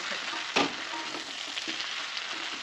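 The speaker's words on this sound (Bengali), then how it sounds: "এবার আমি এর মধ্যে দিয়ে দেবো কুমড়ো শাকের যে পাতাগুলো ছিল, সেই পাতাগুলো দিয়ে দিলাম আমি এর মধ্যে। ভালোভাবে নাড়াচাড়া করে দেবো।" Pumpkin leaves with ginger sizzle in hot oil while being stirred. A steady crackling hiss runs close and fairly loud, and one sharp utensil knock comes early.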